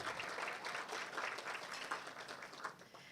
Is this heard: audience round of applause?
yes